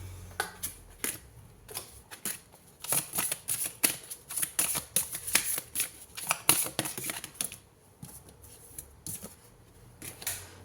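Tarot cards are shuffled close up in a steady run of crisp riffling flutters and quick slaps, with short pauses between bursts and a faint breathy background.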